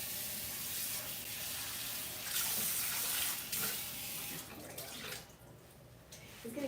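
Tap water runs steadily as food is rinsed under it in a home kitchen while preparing plant-based fajitas, a continuous broad splashing rush with a brief louder surge midway.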